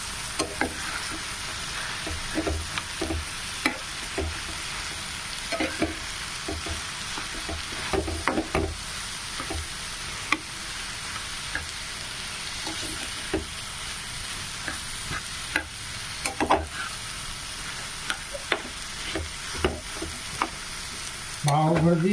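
Vegetables and grated cauliflower stir-frying for pav bhaji: a continuous loud sizzle runs throughout, broken by frequent scraping and clinking stirs of the spoon against the pan, with no talk.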